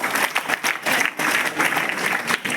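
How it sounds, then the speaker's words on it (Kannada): Loud, dense applause from an audience fills a government staff event celebrating Kempegowda Jayanti in Gokak, with many hands clapping steadily and close throughout. "ಜೋರಾದ ಚಪ್ಪಾಳೆ ಬರಲಿ"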